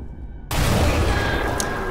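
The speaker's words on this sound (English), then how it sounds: "chuck the grenade under the bridge" In Amnesia: The Bunker, a grenade goes off under a bridge: a sudden loud, broad blast bursts in after a quiet half second and rumbles on, sustained and close, with no talking.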